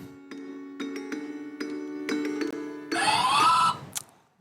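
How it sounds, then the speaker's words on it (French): A quiz-show buzzer on a French music guessing game sounds once, a loud, bright rising tone lasting under a second, following a series of short repeated musical notes. "Ça se joue au buzzer et ça commence tout de suite."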